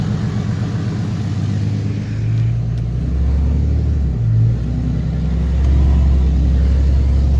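A vehicle in four-wheel low climbs a snowy snowmobile trail, its engine a steady, loud low rumble that swells slightly near the end, with no talking.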